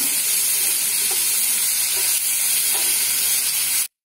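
Tomatoes sauté with salt in a hot pan for an onion chutney, a steady, close hissing sizzle with occasional stirring that runs loud and unbroken before cutting off abruptly into silence.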